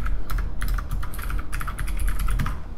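Notes being typed on a computer keyboard, a rapid, continuous clatter of key presses at close range with no talking.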